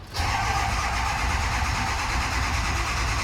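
An engine turns over with a brief crank and catches, then settles into a loud, steady running drone up close with no voices.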